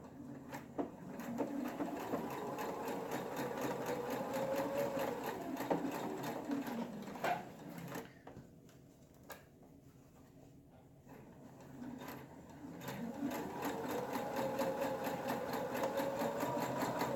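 A sewing machine stitches around the top of a fabric bag. It whirs steadily up close, pauses briefly about halfway through, then picks up again in a continuous run with no voices.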